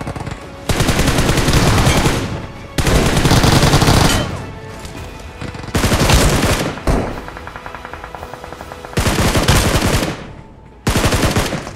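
Rapid automatic gunfire in a mobile battle royale shooter played on a OnePlus 10R, coming in several loud, sustained bursts separated by short pauses.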